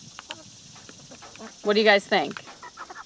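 Clucking from a small homestead flock of four roosters and three hens, a couple of close, loud bursts in the middle over quieter background clucks, with a person speaking briefly.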